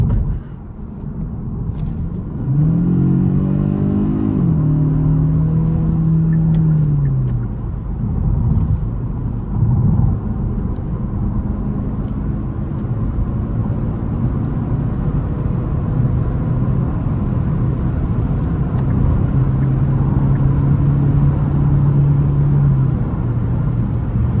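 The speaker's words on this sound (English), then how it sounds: "Just like in the K5, this turbo, once it spools up, it is very, very aggressive." A Kia Stinger 2.5T turbo accelerates in sport mode, heard from inside as a loud steady engine drone and road rumble with a rising tone as the turbo spools, continuing on without voices.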